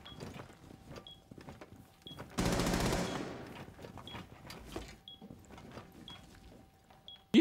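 Gunfire in the tactical shooter Rainbow Six Siege comes as a single loud, rapid burst of about half a second. Before and after it the game is quiet, with faint ticks and soft background noise.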